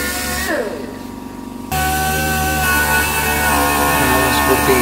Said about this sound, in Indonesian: kita masih bisa menggunakan amplas mesin ya, amplas pneumatik